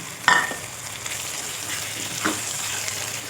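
Cubed potatoes drop into keema and tomatoes frying in a pan, a sharp splash at the start and another clatter later over a steady close sizzle, with no talking.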